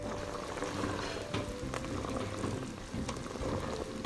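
Boba pearls boil in a pot of water, giving a continuous loud bubbling and rolling simmer with small pops throughout and no voices.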